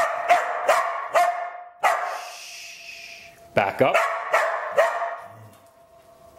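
A Border Collie mix dog barks in sharp bursts, about eight loud, close yips and barks spread over several seconds during a training session, with a person briefly speaking a command between them.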